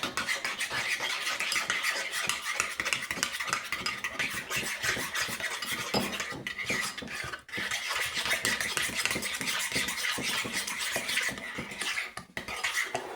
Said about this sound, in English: And then I'm going to mix it all up.